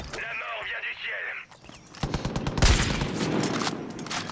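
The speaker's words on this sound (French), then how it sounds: "je te tire quand même dessus à la mitrailleuse lourde" Heavy machine gun fire in the video game Far Cry 5, rapid bursts of loud shots with rumbling blasts mixed with in-game sounds, following a stretch of other game audio.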